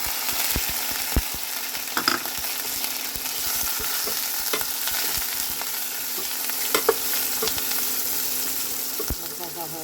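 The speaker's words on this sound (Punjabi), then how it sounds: "ਤੇਲ ਆਪਣਾ ਹੋ ਗਿਆ ਜੀ ਗਰਮ ਪਾਉਨੇ ਥੋੜਾ ਜਿਹਾ ਜੀਰਾ ਅਦਰਕ ਲਸਣ ਦਾ ਪੇਸਟ ਪਿਆਜ਼" Cumin, ginger-garlic paste and onion fry in hot oil in a clay pot for a Punjabi-style mixed dal, sizzling steadily throughout with scattered scraping and stirring clicks from a spoon.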